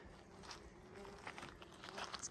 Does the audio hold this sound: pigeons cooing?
no